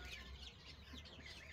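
Chicks cheep softly in a coop, a faint cluster of thin, high repeated peeps over low background noise.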